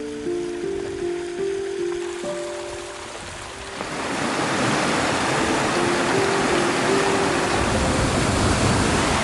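Meltwater rushing through a hole in glacier ice in Iceland, a steady loud broadband roar that swells midway and stays constant, with faint tonal hum in the first few seconds.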